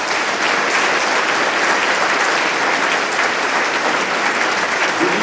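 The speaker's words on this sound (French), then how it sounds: "Eh bien, il faut les applaudir." Sustained, dense applause from the audience at a town mayor's New Year address in Saint-Maur, Indre, filling the hall steadily from start to finish without any talk over it.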